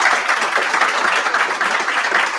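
A meetup audience gives a short, steady burst of loud, dense applause with no break and no talking over it.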